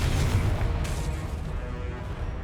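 Confringo fire spell explosion in the Hogwarts Legacy video game, a loud booming blast with rumbling low end that decays slowly over a couple of seconds, no talk over it.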